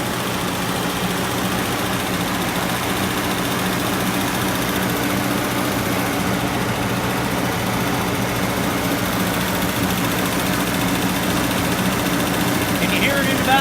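A 1937 Chrysler Imperial roadster engine idles steadily with a stutter in the exhaust, a constant loud close rumble with no break.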